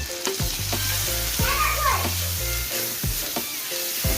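Crushed onion and ground garlic paste fried in a pan for a crab and dried-mango sour dish, a continuous close sizzle broken by regular spatula scrapes and knocks against the pan.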